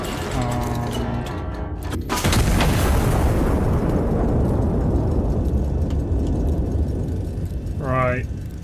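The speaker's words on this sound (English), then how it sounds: "First shell hit the target." An artillery shell from a gun in the video game Iron Nest strikes its target with one loud, booming impact that rolls into a long, fading rumble, with a brief synthetic tone near the end.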